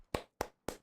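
Three sharp hand claps, evenly spaced about a quarter second apart, close and distinct with silence between them, heard in a CS:GO match setting.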